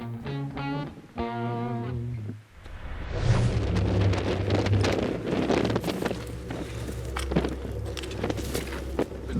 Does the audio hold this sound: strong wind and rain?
yes